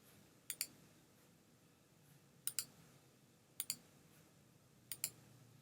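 Computer mouse clicking in a quiet room, four pairs of crisp double clicks spaced a second or two apart, close and fairly faint against a low background hum.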